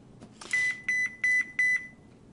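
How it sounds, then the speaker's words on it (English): A phone sounds four evenly spaced electronic beeps in quick succession, each a clean steady tone, clear and close in a quiet room during an astronomy talk. "My phone just beeped at me"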